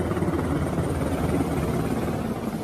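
A helicopter in news footage of a mechanized desert army, its steady broadband rotor and engine roar filling the whole stretch at moderate loudness, with no talk over it.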